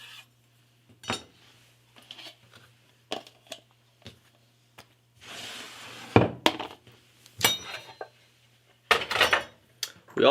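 A knife quarters Roma tomatoes in a kitchen, making scattered close thunks and clicks on a cutting board with quiet gaps between them and a low hum underneath.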